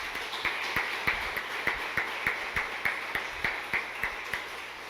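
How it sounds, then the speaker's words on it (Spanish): Rhythmic clapping from a church congregation, steady evenly spaced claps at a moderate pace over a faint background hum, with no talking. "Dale un aplauso al Rey de Reyes."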